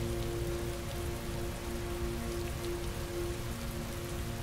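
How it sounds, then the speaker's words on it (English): Heavy rain in the video game Heavy Rain, a steady dense patter of drops on surfaces with a faint constant hum underneath, unbroken throughout. "Heavy rain. It's been the same for weeks."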